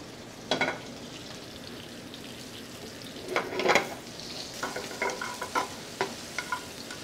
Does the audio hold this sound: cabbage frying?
yes